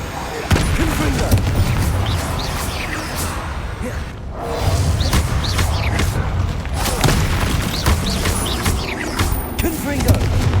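Repeated booming blasts and whooshes from a Confringo fire spell in Hogwarts Legacy, loud and close, several bursts in quick succession with a brief lull midway and a voice shouting spell names over them.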